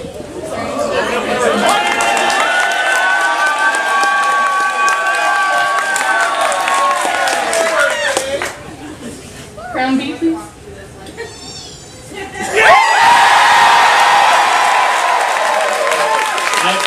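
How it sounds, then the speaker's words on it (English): A concert audience aboard the JoCo Cruise breaks into loud applause, cheering and crowd chatter for a crown vote, swelling, dipping briefly, then surging again. "I would like to take a vote by applause on the uh,"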